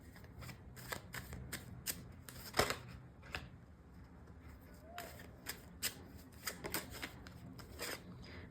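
Tarot cards from the Tarot of the Divine deck are shuffled and drawn, giving repeated sharp riffling bursts and slaps at an irregular rhythm, close and crisp, with quiet rustling between.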